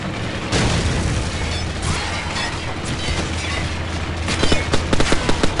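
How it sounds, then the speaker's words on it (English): A flashbang grenade goes off in Call of Duty 4: Modern Warfare, a loud burst followed by a sustained ringing, rumbling wash, with sharper crackling hits near the end. "Flashbang out."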